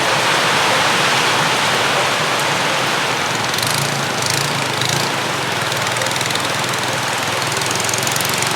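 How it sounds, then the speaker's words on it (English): Heavy rain pours down in a dense, constant roar that stays loud and unbroken throughout, at a floating village in Kampong Khleang, Cambodia. "It just started pouring"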